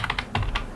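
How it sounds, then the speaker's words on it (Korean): Quick keystrokes tapped on a computer keyboard while entering a bank name into accounting software, a short run of about five close, crisp clicks. "F2 누르고 우리 은행 이렇게 치고요"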